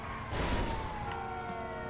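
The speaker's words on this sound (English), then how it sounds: "So we'll turn that siren off" A police-style siren wails from an EMS paramedic vehicle in the video game Transport Tycoon, a steady gliding tone over engine rumble with a brief burst of noise early on.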